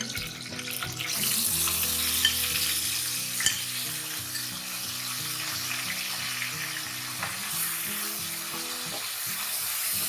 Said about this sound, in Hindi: और अब मैं इसमें डालूँगी चिकन।